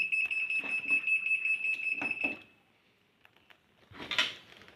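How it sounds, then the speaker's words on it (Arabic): Top-load automatic washing machine with a door switch fault sounding its E2/E3 error alarm: a steady high electronic beep for about two seconds with some handling clatter, then a quiet pause and a brief clunk. "المفروض الصوت او الانذار ده، الاورور اللي بيظهر لي هنا على الشاشة"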